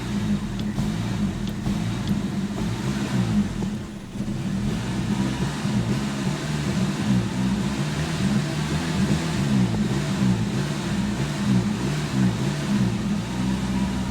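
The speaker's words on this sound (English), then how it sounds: "it's when I let up on the gas, it dies" The engine of a 1988 Chevrolet Nova hatchback runs rough and loud for the whole stretch, with a brief dip in the middle where it nearly stalls after the gas is released, then recovers to a steady idle.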